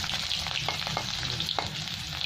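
Whole cumin seeds, a piece of ginger and garlic cloves sizzle and crackle in hot oil in a pan, a close steady frying hiss with a few stirring scrapes, no voices.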